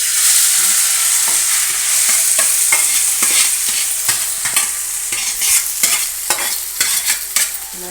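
Boiled Maggi noodles drop into hot oil in a pan and sizzle loudly and steadily, while a utensil scrapes and stirs them in quick, irregular strokes close by.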